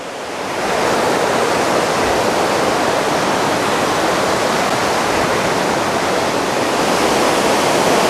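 Stein Creek rushing past in a loud, continuous roar of flowing water, a broad steady wash that swells in over the first second and then holds without pause.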